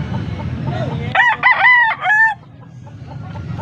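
A six-month-old stag, a young gamecock rooster, crows once close by, a short raspy cock-a-doodle-doo rising out of low background murmur and clucking.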